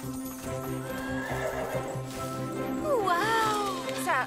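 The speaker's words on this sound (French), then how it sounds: "je crois que c'était un hennissement." A cartoon baby unicorn neighs with high, wavering whinnies that rise and fall, repeated near the end over a soft musical background and light hoof-like clopping.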